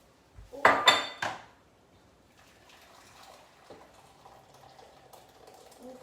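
A spoon clatters sharply against a bowl a few times as raspberry mousse mix is stirred with boiling water, followed by quieter soft scraping and sloshing.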